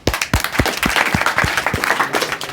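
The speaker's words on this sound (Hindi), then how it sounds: "बहुत सुंदर, तालियां।" Students in an English class break into applause, a quick run of loud, close claps filling the room, with a few voices faintly underneath.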